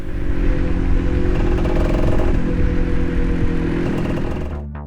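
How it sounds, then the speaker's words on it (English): A motorcycle engine, recorded while riding on an Insta360 X5 camera, drones steadily and loudly throughout with a low rumbling hum and mechanical clatter, then fades at the very end. "here the engine sound is still there and very usable"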